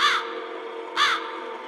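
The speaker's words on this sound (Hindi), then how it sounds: "कौवा आवाज देता है" Two harsh crow caws, about a second apart, each short and loud against a low steady background hum.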